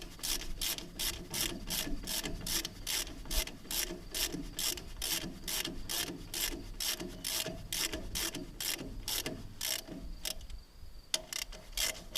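A ratchet wrench snugs a bolt on a Case VAC tractor in quick, even clicks, each stroke a rapid close-up burst that repeats steadily for several seconds, no talking.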